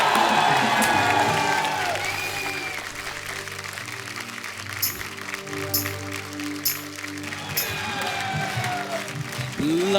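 A studio audience at a Hindi comedy show applauds and cheers with whoops, loud at first and then lighter, with music and a host's voice over the crowd.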